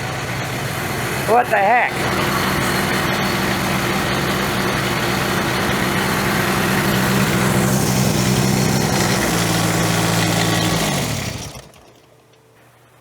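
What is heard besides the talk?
engine of a Ventrac 4500Y tractor being throttled up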